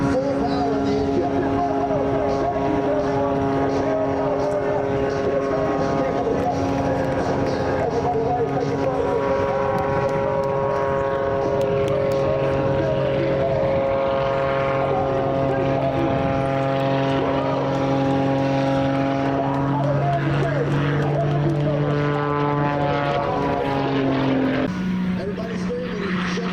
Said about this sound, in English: Full power in the engine.